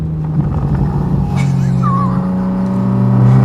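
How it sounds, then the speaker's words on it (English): A Porsche 911 R (991-generation, naturally aspirated, manual gearbox) drops a gear in a canyon. The engine drones with a quick blip and rises in revs toward the end, loud and close. "So fun to grab a downshift with these cars."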